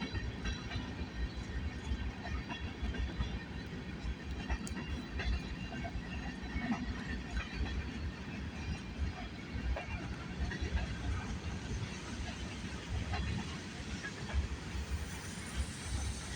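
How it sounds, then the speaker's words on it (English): A freight train with a Union Pacific boxcar rolls past close by, a continuous loud rumble of wheels on rail with rattling, faint clickety-clack and hiss lasting throughout. "Look at that Union Pacific boxcar,"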